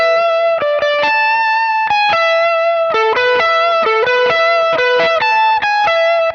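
Electric guitar played through a 1981 DRV pedal with delay and reverb, ringing clean arpeggiated notes and chords that repeat and overlap in a steady rhythm, loud, close and wet, with no voices.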